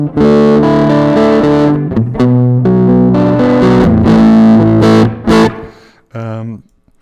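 An electric guitar plays through a Valeton GP multi-effects unit on its Warmplex preset, with overdriven, chorused chords and single notes ringing out loudly in short phrases and ending in a brief final stab.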